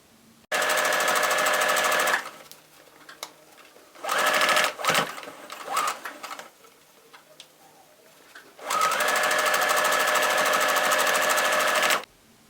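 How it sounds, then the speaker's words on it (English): A sewing machine stitches a quarter-inch seam on a fabric face mask, three sustained loud runs of rapid mechanical whirring separated by brief pauses and softer handling noise. "we're going to sew it with a 1/4 inch seam"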